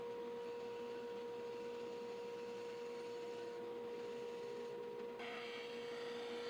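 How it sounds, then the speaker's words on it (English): A bandsaw cutting a curve in wood gives a steady, droning hum with a faint rasping edge, held at an even level throughout with no pauses. "Take it over to the bandsaw, get it close."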